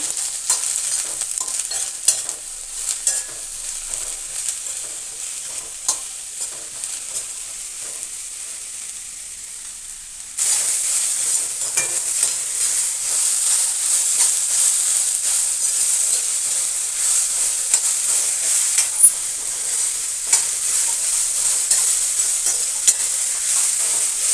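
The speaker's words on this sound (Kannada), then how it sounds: "ಸಣ್ಣದಾಗಿ ಹೆಚ್ಕೊಂಡಿರೋ ಹೀರೆಕಾಯಿ ಹಾಕೊತ ಇದ್ದೀನಿ ಇವಾಗ ಚೆನ್ನಾಗಿ ಹುರ್ಕೊಳ್ಳೋಣ" Finely chopped ridge gourd stir-fried in a pan, a crackling sizzle punctuated by scraping stirs that turns louder and denser partway through and then holds steady.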